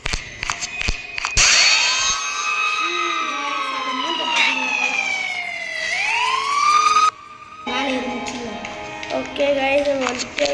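The Siren Cop monster in a horror video game lets out a loud wailing siren that sweeps up and down in long glides, with a short break before it resumes, under a talking voice.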